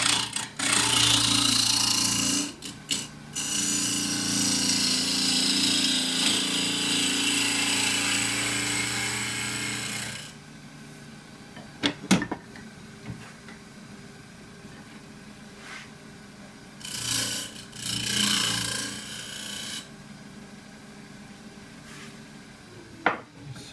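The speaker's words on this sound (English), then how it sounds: "first thing is to just true it up using a half inch spindle gouge" Half-inch spindle gouge truing a forest sheoak bowl blank on a wood lathe, a loud sustained cutting roar for the first ten seconds, then shorter bursts of cutting between quieter spinning with occasional knocks.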